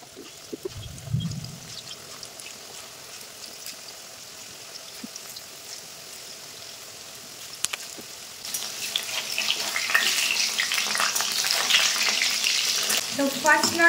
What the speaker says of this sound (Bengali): এবার এক এক করে পুরোটা আমি ভেজে নেব।